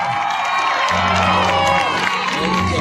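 Cheering and clapping from a crowd at a live folk music show at a Mehsana winter festival, loud and steady throughout with shouts and whoops over it.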